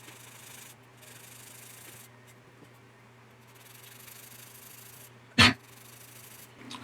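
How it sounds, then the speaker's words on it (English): Soft plastic parts of a 1/35 scale MH-60J/T Jayhawk model kit being sanded: faint, steady rubbing strokes with brief pauses over a low room hum, broken once by a short sharp knock. "let's go ahead and get this sanded down and cleaned up"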